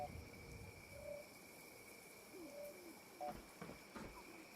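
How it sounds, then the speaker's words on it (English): A distant bird hoots a few times in the Fallout 76 game world, faint calls spread over a quiet background hum. "that's a bird"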